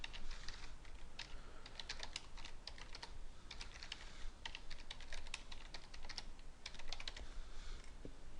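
Rapid, steady keystrokes on a computer keyboard as a username and password are entered during a VMware upgrade setup, continuous clicking taps filling the whole stretch at a moderate, close level with no talking.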